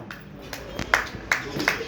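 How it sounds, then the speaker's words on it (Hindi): A woman claps her hands a few times, sharp and close, at a village religious gathering, while someone talks over the claps. "देखो माता जी तालियां बजा रही"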